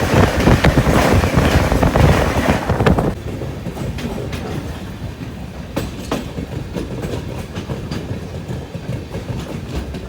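A passenger train pulls into Sandila railway station after 467 kilometres, loud rumbling wheels and rhythmic clickety-clack that drop to a quieter rolling clatter with intermittent rail clicks as it slows.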